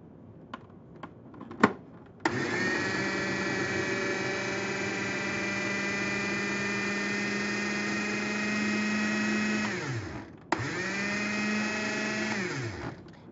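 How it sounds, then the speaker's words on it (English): A food processor purees a hummus base mixture, a loud steady motor whir with a bright tonal hum that runs about eight seconds, stops briefly, then starts again. "we're ready to puree just our base mixture"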